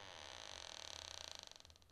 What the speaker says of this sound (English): Here I opened wide the door.